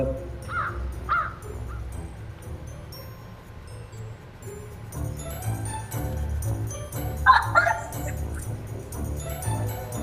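Pet crow giving a few short harsh caws, close by, amid background household noise and low rumble, with a louder cluster of calls later on.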